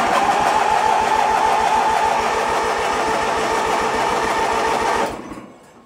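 A Murray lawn mower engine on full choke, cold started, chugs loudly in a fast steady rhythm for about five seconds before cutting out abruptly.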